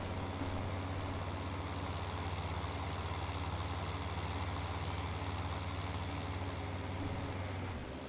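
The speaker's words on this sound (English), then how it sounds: "Do love this tractor." Steady heavy tractor engine drone from Farming Simulator, a constant loud low rumble with a dense grinding mechanical texture, continuous throughout and cutting off right at the end.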